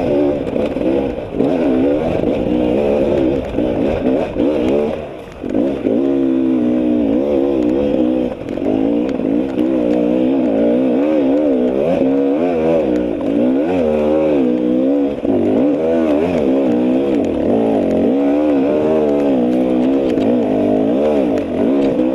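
A motorcycle engine on a tech trail revs and surges continuously as the rider works the clutch hard, loud and close, with one brief dip.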